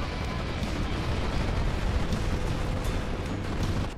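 Turret gunfire and explosions in a video game make a dense, steady roar of booms and bursts, loud and continuous throughout.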